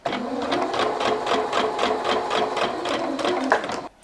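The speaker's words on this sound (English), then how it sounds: "And just sew your 1/4-inch seam." A sewing machine stitches a quarter-inch seam through quilt fabric for a rag quilt, a steady fast rhythmic clatter of the needle running for about four seconds before stopping abruptly.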